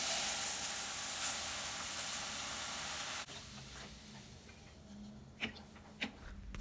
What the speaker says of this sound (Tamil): இப்போ நம்ம இதில் 1 லிட்டர் பால் சேர்த்துக்கலாம்.